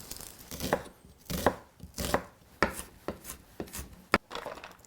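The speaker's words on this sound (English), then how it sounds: "And now, our friend the onion, thinly chopped." A knife thinly chops an onion on a board while preparing beef bourguignon: steady, evenly spaced crisp chops, close and clear, with no talking.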